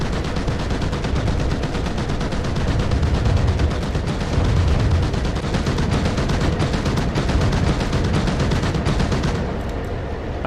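An armoured personnel carrier's mounted gun fires in the DCS World combat simulator, a continuous loud rattle of automatic gunfire that runs without pause for about ten seconds and eases off slightly at the end.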